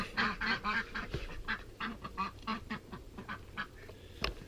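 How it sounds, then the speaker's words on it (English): Ducks quack in quick repeated bursts while splashing around nearby, a lively clustered chatter with a sharper splash near the end and no talking. "The ducks are having fun splashing around"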